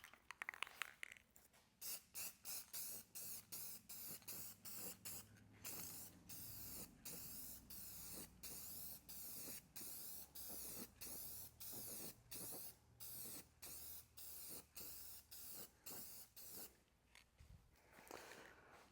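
Rust-Oleum crystal clear gloss acrylic lacquer sprayed from an aerosol can onto restored car headlights in a long series of short, hissing bursts, close and steady, with no talking.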